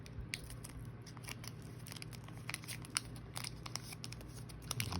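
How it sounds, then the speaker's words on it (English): Origami paper is folded and tucked close up, giving soft crinkles, light creasing scrapes and small crisp taps in an irregular rhythm. "So yeah, fold that over and then tuck it in."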